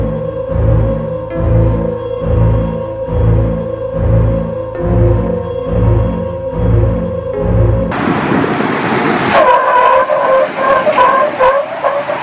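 A 2022 Chevrolet Cheyenne pickup revs hard during a 4x4 tug-of-war against a 1987 Silverado, its engine pulsing in steady rhythmic bursts for eight seconds before giving way to a louder, rougher roar with tire and gravel noise.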